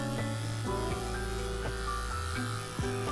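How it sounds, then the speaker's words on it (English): An electric razor gives a close head shave after a 2mm clipper pass, its steady motor buzz running close and continuous, with brief pitch shifts as it moves across the scalp. "Time to take out the close razor and get a close shave."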